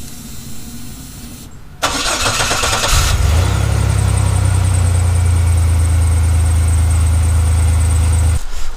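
Chevrolet ZR2 Blazer with the catalytic converter removed cranks briefly then catches and settles into a loud, steady idle, heard close up and alone until it cuts off abruptly.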